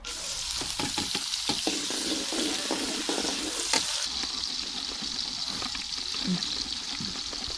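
Onions frying in a pan for vegetable pulao, a steady close sizzle with scattered crackles and a few stirring scrapes, no talking.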